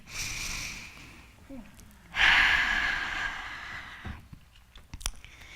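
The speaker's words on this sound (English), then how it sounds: "So let's take a moment and breathe." A deep breath drawn in during a guided breathing pause, a broad rushing inhale that swells suddenly and then slowly eases off, heard up close with no talk over it.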